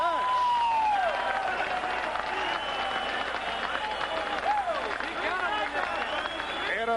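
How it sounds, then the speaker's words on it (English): Boxing arena crowd in the final seconds of a 1983 WBC super featherweight bout between Bobby Chacon and Cornelius Boza Edwards, a steady loud roar of applause and cheering with whistles throughout. "And the crowd reacts."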